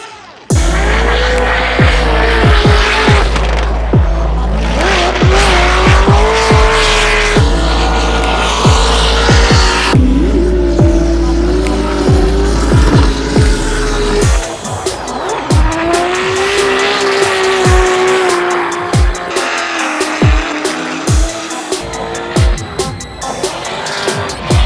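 Drift cars at a Formula Drift event scream through a final turn with roaring engines, bouncing rev-limiter bursts and long tire squeals, loud and continuous for over twenty seconds amid crowd noise.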